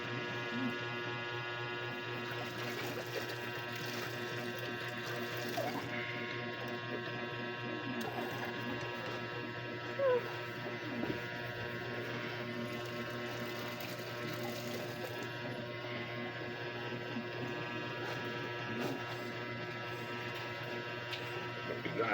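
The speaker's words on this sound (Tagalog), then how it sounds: "Ayan yung aking dryer para" A household laundry spin dryer runs steadily with a constant motor hum and watery churning, mid-level and continuous, with a few faint knocks near the middle.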